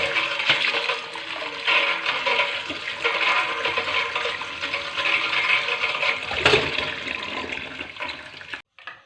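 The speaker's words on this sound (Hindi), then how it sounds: "ठंडा पानी डालेंगे।" Cold water poured into a container while making a noodle bhel salad in a kitchen, a continuous rushing gush lasting several seconds before stopping abruptly.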